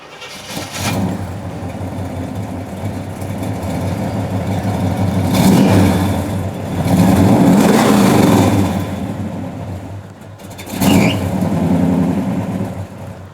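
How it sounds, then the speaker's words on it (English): A 1970 Chevy Chevelle SS with a 396 V8 and 373 gears revs hard in several loud blips that rise and fall over a steady rumbling idle, heard close and without talk. "Can we hear how the car sounds?"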